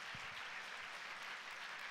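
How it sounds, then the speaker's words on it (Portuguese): A church congregation claps together during a Sunday service, with steady, even applause held at the same moderate level from start to finish. "e dê um aplauso a Ele"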